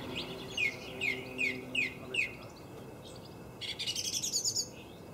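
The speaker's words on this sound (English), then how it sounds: "the thrush giving it all" A song thrush sings a run of five clear, whistled phrases, then a rapid trilling burst, with faint background hiss.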